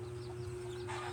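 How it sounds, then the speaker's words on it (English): Giant bantam chickens cluck softly near a fence in a backyard pen, a faint low murmur of fowl sounds over a steady background hum. "So we will transfer the giant Bantam chicken over here."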